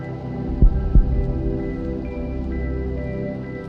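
A slow heartbeat sound effect plays in a tantric meditation, two deep thumps close together over a sustained low droning hum that carries on alone afterward.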